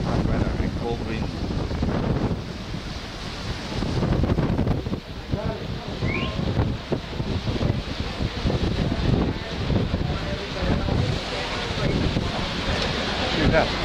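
Steady wind noise buffets the microphone throughout, mixed with a low rumble like water or a boat moving, continuous and fairly loud.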